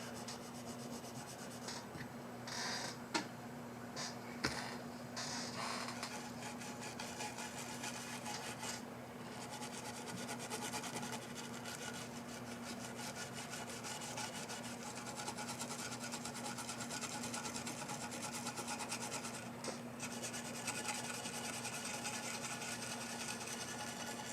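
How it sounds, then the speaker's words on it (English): Toothbrush scrubbing a Zotac GTX 980 Ti graphics card, a continuous quiet bristly rubbing with a few light taps, close but faint under a steady background hum. "I think I might go at this with a toothbrush"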